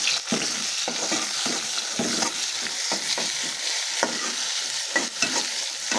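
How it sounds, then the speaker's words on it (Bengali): Chopped onions and green chilies fry in a hot wok, a continuous sizzle broken by frequent scraping stir strokes from a spatula, close and fairly loud with no talking. "পেঁয়াজ কাঁচামরিচগুলো দিয়ে দেব।"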